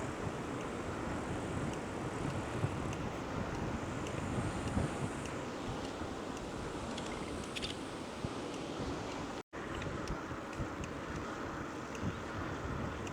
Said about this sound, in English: over here you can hear the creek more louder